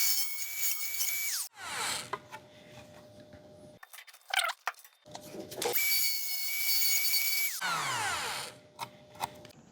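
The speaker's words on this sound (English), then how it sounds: "I'm just using my Dremel here with a grinding bit to grind a little slot in" A Dremel rotary tool with a grinding bit cuts a small slot during a car stereo dash kit install in an E92 335i, its high whine starting and stopping in several close bursts with scraping grind noise between.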